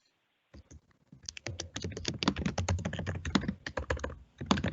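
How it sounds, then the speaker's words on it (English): Rapid clicking keystrokes on a computer keyboard fill the gap during a virtual town hall meeting, a dense, uneven run of taps picked up close on an open microphone with no talking over it. "Somebody's typing."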